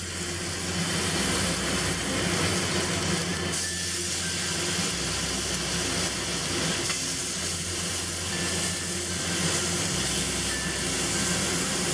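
Berkshire pork belly sizzling on a stovetop grill over medium heat, a loud, steady frying hiss that runs unbroken throughout, close and without talk.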